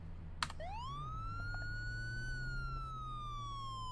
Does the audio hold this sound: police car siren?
yes